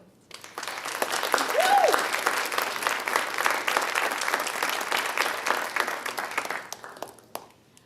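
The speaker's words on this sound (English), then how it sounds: "let's give one more round of applause for Shreya" Audience applause at a college honor society induction ceremony, a sustained wash of clapping that swells quickly and holds steady for several seconds before tapering off, with a brief voice near the start.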